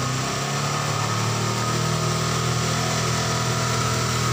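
Honda CB150 motorcycle engine held at a steady high rev of about 5000 rpm, a loud, constant buzzing drone heard close up with no talking.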